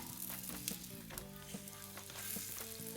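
Korean hotteok, a flattened sweet pancake, sizzling steadily in an oiled pan, a close, even crackle broken by soft scraping and light clinks of a ladle pressing it flat, with no one talking.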